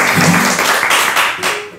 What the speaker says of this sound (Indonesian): Tepuk tangan yang paling meriah untuk